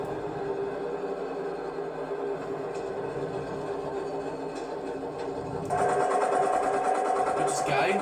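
A farm tractor engine runs steadily close by throughout, a continuous mechanical drone that grows louder and busier in the last couple of seconds; a faint voice may sit underneath.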